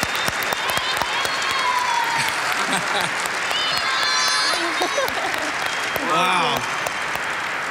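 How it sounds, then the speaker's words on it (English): An audience applauds at a business forum documentary premiere, keeping up a full, sustained round of clapping while a person exclaims and voices talk over it partway through. "A big round of applause."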